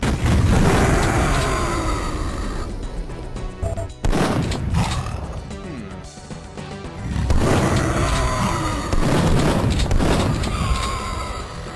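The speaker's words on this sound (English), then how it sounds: "Okay, explosions." Explosions rumble in Duke Nukem 3D, loud booming roars that swell and fade, with a brief dip and sharp crack before another long rumbling blast.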